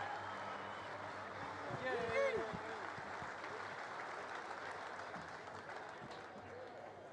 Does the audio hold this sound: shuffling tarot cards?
no